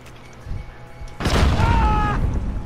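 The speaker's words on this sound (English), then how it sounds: "Throw another grenade somewhere." A grenade explosion in Call of Duty Modern Warfare during a clan search-and-destroy match, a sudden loud boom with a rumbling tail following a quieter stretch.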